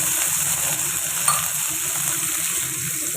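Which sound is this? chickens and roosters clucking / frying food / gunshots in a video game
frying food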